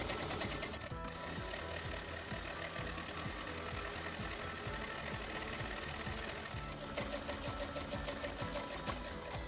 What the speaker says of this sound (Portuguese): abri só a costura para não ficar aquele excesso de tecido e vou continuar costurando